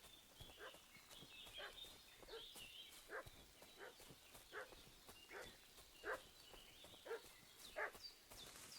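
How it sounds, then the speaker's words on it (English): A dog barks repeatedly at a distance in the medieval game Kingdom Come: Deliverance II, a steady series of sharp calls over quiet ambient outdoor sound. "What's that dog making such a fuss about?"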